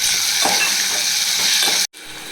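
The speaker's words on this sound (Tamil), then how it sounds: "இப்போ பார்த்திங்கன்னா டொமேட்டோ நல்லா ஃப்ரை ஆகிடுச்சு." Tomatoes and onions fry in a pan with a steady loud sizzle, with a couple of soft stirring scrapes, cutting off abruptly near the end and returning briefly.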